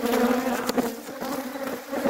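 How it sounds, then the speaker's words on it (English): Africanized bees drone steadily and loudly near their hive, a continuous close buzz with no talking over it. "showing those people back in the Midwest what kind of nice bees we got going on here"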